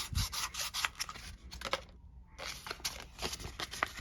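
The inside of a silver 1936 Walking Liberty coin ring is sanded by hand with fine-grit paper, making quiet, quick rubbing strokes in a rough rhythm with a brief pause partway through.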